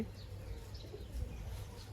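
Young pigeons, November-hatched chicks of racing pigeons, cooing faintly in a loft; soft low murmuring coos blend with a steady background hum and a few light chirps.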